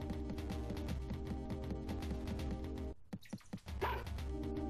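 A dog in the video game Mother 3 barks in a quick repeated run over steady looping game music, then a brief gap with a few sharp yips before the music resumes.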